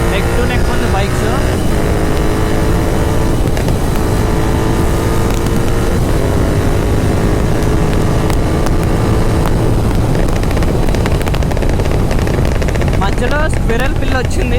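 Royal Enfield GT 650 and KTM Duke 390 motorcycles racing neck and neck on a road, a loud continuous engine roar with heavy wind buffeting the microphone, steady and close for the whole stretch.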